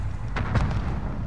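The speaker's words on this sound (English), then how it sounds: "I threw a nade at him" A thrown grenade in a competitive 2v2 shooter goes off as a short, muffled boom with a quick follow-up thud, close and punchy over a low background rumble.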